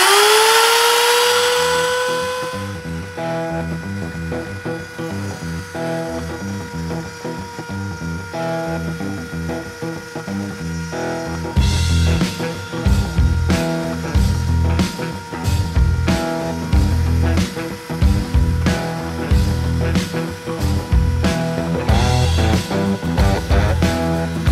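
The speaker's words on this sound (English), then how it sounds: "Turn the spindle on, and then we're going to go ahead and rock and roll." On an AxisCreat 3030 CNC machine, the spindle spins up with a rising whine, then gives way to steady, rhythmic mechanical clicking and ratcheting from the machine's motion, close and continuous.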